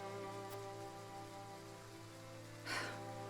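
Steady rain falling in the Triangle Strategy video game, a faint continuous patter under a low sustained musical drone, with a brief swell of noise near the end.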